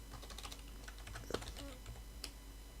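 Typing on a computer keyboard while building cables in a CinemaD tutorial, with a steady run of soft key clicks at low, even volume and a slightly louder tap near the middle, no speech.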